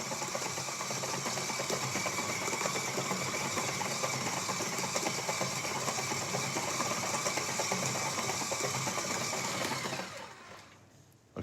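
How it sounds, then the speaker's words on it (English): A stand mixer works bread dough in its bowl, giving a steady, loud motorised whir with a fast mechanical rattle that runs unbroken for about ten seconds, then winds down and stops. "So when you use a mixer to mix your dough, the first 4 minutes are quite important."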